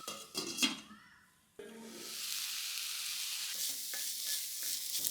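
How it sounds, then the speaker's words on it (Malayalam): Onions with green chilies and curry leaves hit hot oil for a Kerala ulli sambar, a clatter of stirring followed by a sudden steady sizzle that holds loud and even to the end. "ഇനി 2 പച്ചമുളകും 2 തണ്ട് കറിവേപ്പിലയും കൂടി ചേർത്ത് ഉള്ളി വഴറ്റിയെടുക്കണം."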